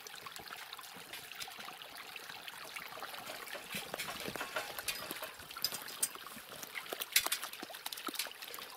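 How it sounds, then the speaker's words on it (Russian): Water trickles and dribbles steadily at a pond in late autumn, a faint, continuous babbling flow with small irregular splashes, no voices over it. "Вот оно где, вода течет."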